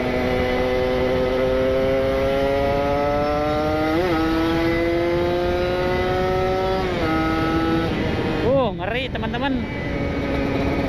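Kawasaki Ninja RR two-stroke motorcycle with an R9 exhaust revs hard and steadily, the pitch climbing in long pulls with a few quick throttle blips near the end, loud and close, with a voice speaking briefly over it.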